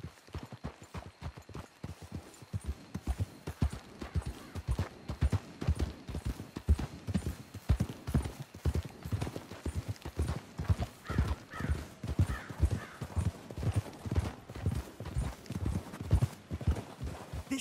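Horse hooves clip-clop in the video game Red Dead Redemption 2, a brisk, steady rhythm of close hoof strikes that runs unbroken for a long stretch, with a horse's whinny breaking through partway.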